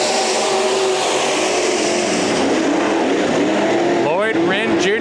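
Sport Mod race cars roar around Bakersfield Speedway in a heat race, a dense, loud wall of engine noise from several cars at once. A few sharp revving passes stand out near the end, and an announcer talks over them.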